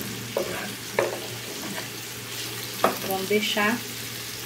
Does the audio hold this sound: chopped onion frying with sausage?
yes